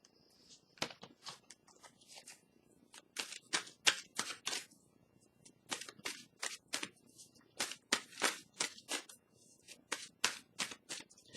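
Oracle cards being shuffled by hand for a tarot reading, with quiet repeated riffling bursts in quick irregular runs and short pauses between them, close to the microphone, no speech.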